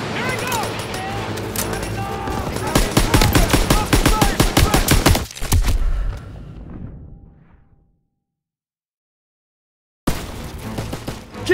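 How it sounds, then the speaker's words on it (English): Rapid automatic machine gun fire rattles in Call of Duty WW2 trench combat, with loud sustained bursts and shouting soldiers. The sound then fades to silence before battle noise resumes abruptly. "Lay down fire on that MG!"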